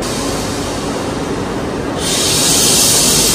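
An old-fashioned train at Disneyland Paris gives off a steady rumble and hiss, with a sharper bright hiss swelling in about halfway through, like released steam or brakes, loud and close with no talking.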